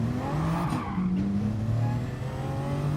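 A Jaguar race car braking hard into a turn in the Gran Turismo Sport racing game, with a steady engine drone and faint tire scrub as it slows toward the apex.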